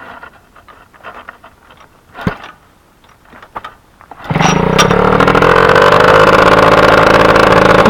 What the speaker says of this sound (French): Tac, je vais démarrer la brelle.